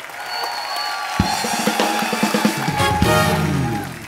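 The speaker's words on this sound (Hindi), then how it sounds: "जोरदार तालियां इल्याना के लिए।" Studio audience applause on an Indian TV comedy talk show, a dense patter of clapping and crowd noise that swells from about a second in, layered over sustained show music.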